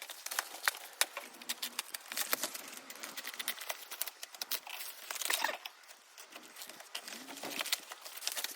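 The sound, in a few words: unwrapping packaging from Ford Ranger bull bars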